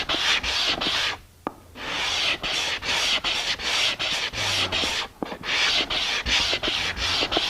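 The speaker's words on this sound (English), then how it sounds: "I'm going to sand it with some 220." A raised panel bevel being sanded by hand with 220 grit sandpaper, making rhythmic close scratchy back-and-forth strokes with short pauses between passes.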